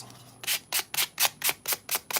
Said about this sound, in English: Sanding the belt boxes